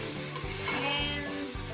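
Beef strips sizzle and fry steadily in a hot pan for Mongolian beef, a continuous close hiss with a few soft stirring scrapes and no talk.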